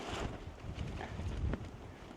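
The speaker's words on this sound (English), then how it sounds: "The wind has really got up, but it's good, still sunny." Strong wind gusts buffet a rooftop tent on a sunny afternoon in open countryside, a steady broadband rush with flapping surges throughout, close to the microphone and without speech.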